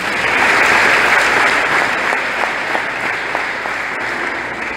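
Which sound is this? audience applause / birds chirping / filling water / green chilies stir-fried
audience applause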